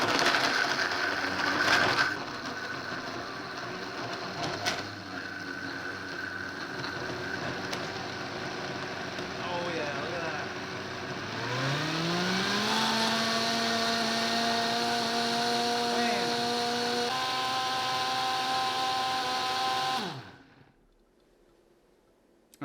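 A Vitamix blender runs on its smoothie setting, a loud steady whirring drone that ramps up in pitch partway through, holds at high speed, then cuts off abruptly into silence.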